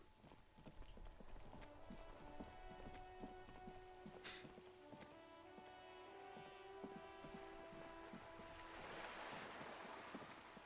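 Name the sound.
rain in Revachol, video game Disco Elysium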